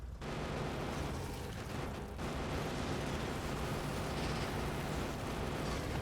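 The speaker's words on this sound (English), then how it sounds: "You can just drive right into their hives and wreck them." A tank in the Factorio video game smashing bug hives, producing a continuous roaring rumble of explosions and crunching destruction, loud and steady throughout with no speech.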